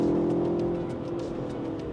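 A turbocharged Mini Cooper S on a race track hums with a steady mid-pitched engine drone that eases slightly in level over the span, heard from inside the car with faint clicks above.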